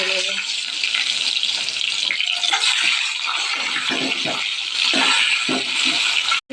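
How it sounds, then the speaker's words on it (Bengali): Eggs frying in hot oil while cooking Bengali dim kosha, giving a steady, loud, hissing sizzle that runs continuously and close up before cutting off at the end. "এই তেলের মধ্যে আমরা দেখো ডিমগুলোকে এবার ভেজে নেব।"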